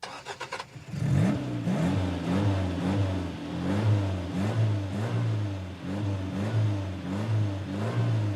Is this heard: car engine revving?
yes